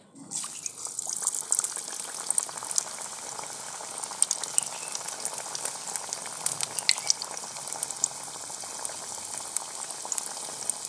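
Aloo tikki, crispy potato patties, frying in hot oil, a loud continuous bubbling sizzle that begins as the patty goes in and stays steady and close throughout, with no voices.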